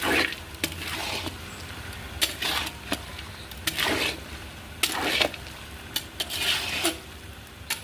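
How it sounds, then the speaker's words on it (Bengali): Fried raw peanuts and lentil dumplings (bori) being stirred into a pot of cooking Malabar spinach, with repeated scraping and clinking of a utensil against the pot over a steady sizzle, close up and with no talking. "ভেজে রাখা কাঁচা বাদাম আর বড়ি আছে সেটা আমি এর মধ্যে দিয়ে দেবো দিয়ে আমি ভালো করে মিশিয়ে এটা নামিয়ে দেবো"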